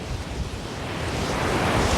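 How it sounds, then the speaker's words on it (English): Strong storm wind with gusts up to 70 mph roars around an RV, a dense, continuous rush of noise that swells slightly louder toward the end, heard alone without voices. "The wind is still strong,"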